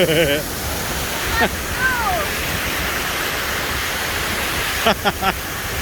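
Loud, steady rushing of a water current flowing beneath a grated walkway, a continuous broadband roar for the whole stretch, with brief voices and laughter breaking in near the start and end.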